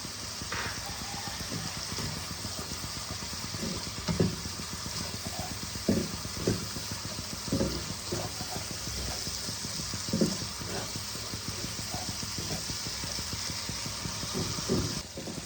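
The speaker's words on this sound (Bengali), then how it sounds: "মশলা দেখো আমার ভালোভাবে কষছে, খুব সুন্দর করে কষিয়ে নেব।" Spice paste with slit green chillies and a little water frying in a pan for a Bengali fish curry, a steady moderate sizzle with intermittent stirring scrapes and soft bubbling.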